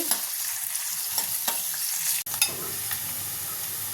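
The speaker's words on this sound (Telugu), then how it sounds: "అలాగే కట్ చేసి పెట్టుకున్న ఉల్లిపాయలు బాగా ఎర్రగా ఫ్రై అవ్వాలి." Chopped onions frying in oil with mustard seeds and cumin for a drumstick masala curry, a steady close sizzle with a few stirring scrapes and one brief break midway.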